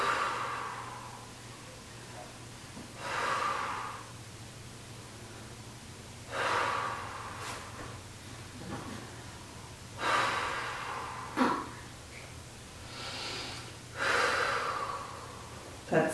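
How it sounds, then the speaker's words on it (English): Deep, slow breaths during a postpartum core exercise for diastasis recti, heard as a repeated cycle of breathy inhales and exhales roughly every three to four seconds over a steady low hum, with no talking. "Pull those abs in, and we're going to do 20 breaths."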